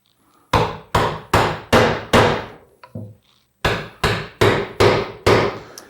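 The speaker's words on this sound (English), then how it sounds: "you're going to hear the sound change as I pound it in" A wooden rung is pounded into a bench with a mallet, nine loud, sharp blows in two runs separated by a short pause, each strike ringing and decaying, the tone shifting as the rung seats.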